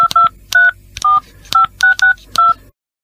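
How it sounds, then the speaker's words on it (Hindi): Telephone keypad dialing tones: a series of about eight short, loud, clean DTMF beeps in an uneven rhythm, each a steady two-tone pip, then silence at the end. "पहले नंबर के बटन दबाओ"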